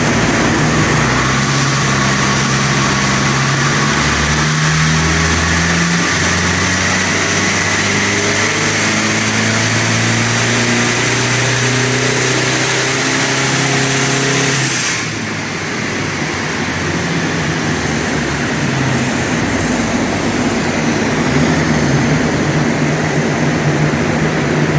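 An Isuzu D-Max with a 4JJ1 diesel engine and 3-inch turbo-back exhaust drones steadily and loudly, its pitch rising through a dyno run before dropping back to a lower, rougher tone partway through.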